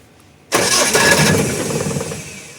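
A Mahindra Bolero pickup's diesel engine, which has a starting problem, cranks abruptly after a brief quiet moment: a loud, close mechanical churn that gradually fades without clearly settling into an idle.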